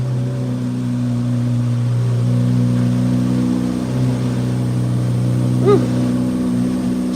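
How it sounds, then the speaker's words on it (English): Chevrolet Corvette Z06 engine, not fully cold, idling after a start with a steady loud low hum and a deep constant drone, with a brief clicking blip near the end. "I'll do a cold start."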